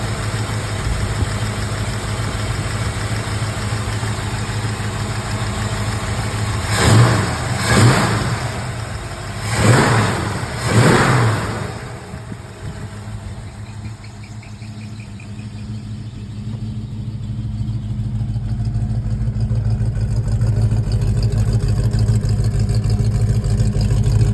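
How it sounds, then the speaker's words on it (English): A 1965 Ford Mustang V8 with a race cam idles with an uneven, loping rumble; a few quick revs rise and fall midway before it settles back to a steady idle. "The car sounds like it's missing, but it's not. That's that race cam in it."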